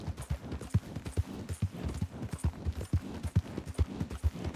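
A horse's hooves clip-clop in Red Dead Redemption 2, a quick, even run of close, punchy footfalls repeating throughout without pause, and no speech over them.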